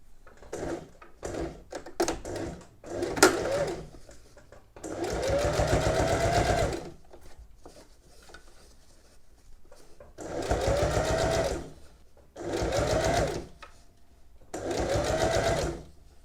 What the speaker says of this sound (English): we're going to do an edge stitch here on the other side to tack it back